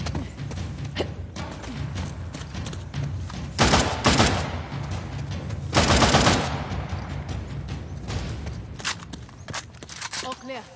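Sniper gunfire in Shadow of the Tomb Raider on PS5, bursts of shots and loud cracks amid busy game sounds and effects, with voices talking over parts of the action.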